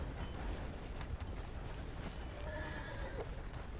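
Horse whinnying in Red Dead Redemption 2, a brief high neigh rising out of steady noisy game ambience in the second half, with no speech.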